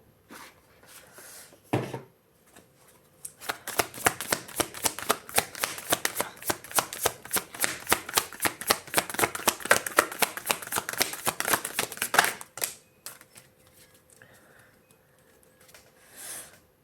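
A tarot deck is shuffled before a card is drawn: a long run of rapid, crisp riffling flutters lasting about nine seconds, framed by a few softer card handling sounds before and after.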